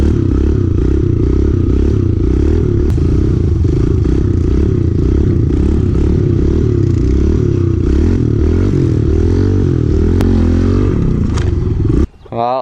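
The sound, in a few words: pit bike engine running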